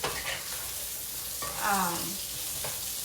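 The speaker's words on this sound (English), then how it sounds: "now I am going to toss in our onions real quick and just let them cook down a little bit with that sausage" Smoked sausage and onions sizzling in a pan, a steady soft frying hiss with a brief scrape of stirring in the middle.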